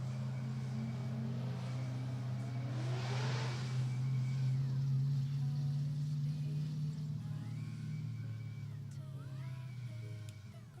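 A drift car at a Drifting the Plains event rolls along on a slow cool-down lap. Its engine gives a steady, low, loud drone that swells briefly at mid-throttle and then eases off.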